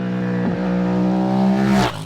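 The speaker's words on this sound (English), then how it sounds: "The noise, the roar when you open the throttles," A close, loud Ducati 888 SP4 motorcycle engine roars with a rising throttle pitch, sweeping up strongly near the end before dropping off.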